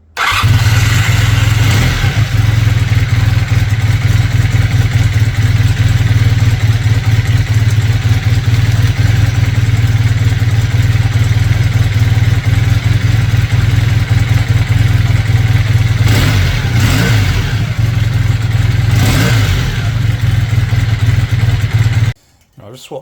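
A Honda 400T Dream motorcycle engine cranks and catches, then runs loud and close with a steady idle and a couple of brief revs before cutting off abruptly at the end.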